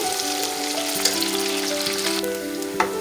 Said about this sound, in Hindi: प्याज़ों को मैं लाइट ब्राउन होने तक फ्राई करूँगी।